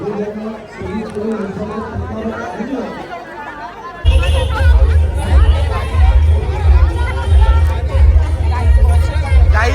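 Festival crowd at the Gavhan mahotsav in India, voices chattering throughout, then a sudden jump to louder, rumbling hubbub with wind-like noise midway, people talking close by over the din.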